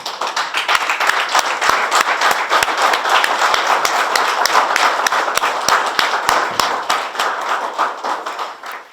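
A standing audience at an architecture design talk gives a final round of applause: dense, steady clapping fills the room for the whole stretch, with sharper individual claps standing out near the front, slowly thinning toward the end.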